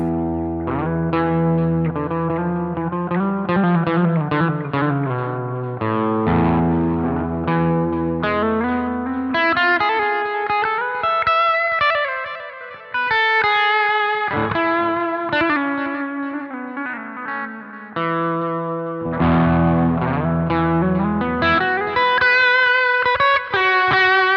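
A custom mahogany electric guitar with a humbucker pickup runs through overdrive, playing loud sustained notes and chords in shifting phrases with a thick, driven tone and no talking.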